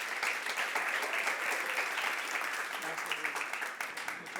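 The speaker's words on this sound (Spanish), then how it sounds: "Demos un buen aplauso, Alfredo." An audience at a business talk applauds a guest being introduced, a dense steady clapping from a crowd that fills the whole stretch at moderate volume, thinning slightly toward the end.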